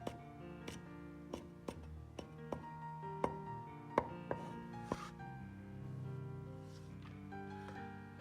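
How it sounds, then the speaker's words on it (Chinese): Washed cilantro being finely chopped with a knife, about a dozen crisp knife strikes on a cutting board in an uneven rhythm, close and clear over soft kitchen background music. "香菜适量，清洗干净，切碎"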